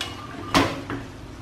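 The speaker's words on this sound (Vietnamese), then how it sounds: "Mình sẽ dùng cái muỗng để mình múc cái phần sốt á" A spoon scrapes and taps against a pan while scooping thick fish sauce glaze over eggs fried in fish sauce. There is one sharp close clink, then a lighter scrape a moment later.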